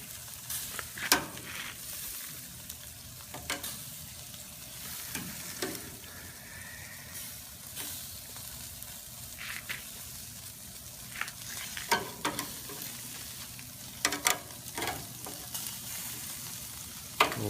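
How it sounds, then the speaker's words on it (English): Bacon-wrapped fillets, a beef skewer and sausages sizzle and crackle steadily on the heat, with scattered scraping clatters as the meats get flipped. "Now it's time to just check on our meats and give them one last final flip"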